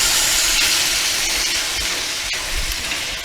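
Diced tomatoes hit a hot paella pan with garlic, releasing a steady, loud broadband hiss of steam that holds evenly for a few seconds with faint crackles underneath.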